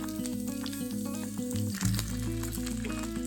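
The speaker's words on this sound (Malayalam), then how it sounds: "വെളിച്ചെണ്ണ ഒഴിക്കാം രണ്ട് ചെറിയ പീസ് വെളുത്തുള്ളിയും ഒരു ചെറിയൊരു സവാളയും ചേർത്ത് വഴറ്റാം" Garlic and a small onion sautéing in hot coconut oil give a steady, close sizzle that runs under background music for the whole stretch.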